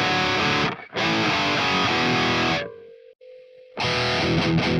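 Loud, heavily distorted electric guitar chords through an amp simulator chug in bursts, with a short sustained note ringing out during a break before the riff crashes back in.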